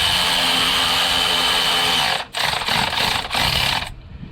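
A power tool tightens the bolt on the A/C compressor clutch of a 2005 Mazda Tribute or Ford Escape, a loud steady whir running about two seconds, then several short choppy bursts before stopping.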